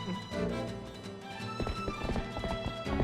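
Steady clip-clop of horse hooves trotting along in The Legend of Zelda: Twilight Princess, rhythmic and continuous over a dense game soundtrack, with a faint neigh.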